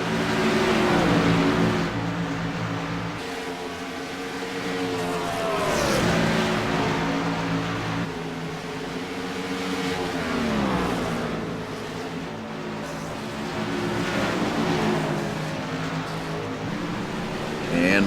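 Race cars roar past at Dover International Raceway in a stock-car series race, with engines rising and falling in repeated sweeping pass-bys, under an announcer's commentary.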